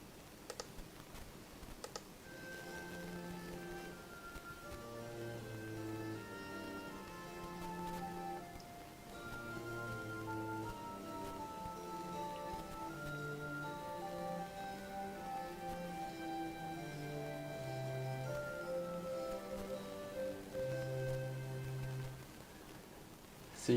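Figured bass accompaniment with an oboe line, four voices moving in sustained chords and shifting stepwise notes, played steadily and moderately loud with no talking.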